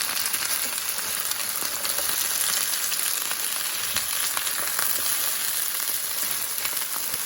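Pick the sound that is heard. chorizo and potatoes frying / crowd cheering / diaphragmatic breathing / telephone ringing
chorizo and potatoes frying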